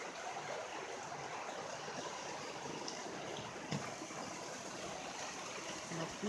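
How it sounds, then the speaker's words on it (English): Steady broadband rush of flowing river water in undisturbed New Zealand countryside, constant and moderately close, with no voices. "Our beautiful river."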